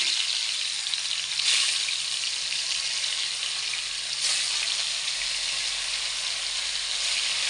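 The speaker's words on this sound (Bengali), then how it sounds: "এবার একটা একটা করে মাছ ভাজছি আমি।" Pieces of fish fry in hot oil, giving a loud, continuous crackling sizzle that swells slightly a couple of times, close by and steady, with no voices.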